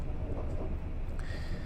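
A train runs steadily in the video game Fear Equation, producing a continuous low rumbling and rolling rail noise with a faint tonal whine near the end.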